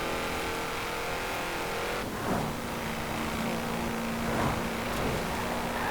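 In Forza Horizon 4, a stock 2012 Shelby 1000 roars at high speed, around 170-180 mph, with a loud, sustained engine drone and rushing road noise that continue without a break.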